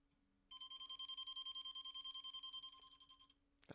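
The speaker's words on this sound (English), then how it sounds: "That's my alarm. Like a timer, when I set a timer." A Star Wars Millennium Falcon alarm tone set as a phone timer rings out clearly in a steady, rapidly pulsing electronic beep pattern for about three seconds, then stops, with a short clatter at the end.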